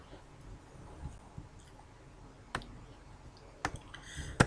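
Sharp single mouse clicks on a web page link, two or three isolated faint ticks spaced over a few seconds against quiet room noise.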